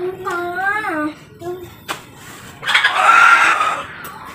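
A wheezy, sick village chicken in Purwakarta, West Java, gives a few strained, rising clucks up close, followed by a short pause, a sharp tap, and a louder burst of rough squawking and flapping near the end.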